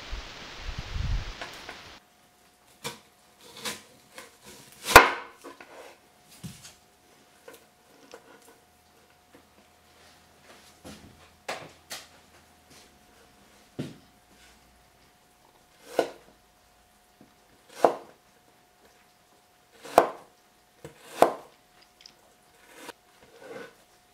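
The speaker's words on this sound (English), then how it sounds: "now we're going to chop a little onion according to taste" An onion being chopped with a knife on a board: a series of separate, sharp chopping knocks at irregular intervals, close and moderately loud, with quiet gaps between strokes.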